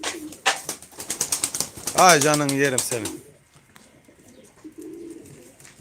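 Pigeons of the Sabuni line, including a smoky crested bird, coo softly in a loft while someone talks warmly over them, the low murmuring calls mostly buried beneath his voice.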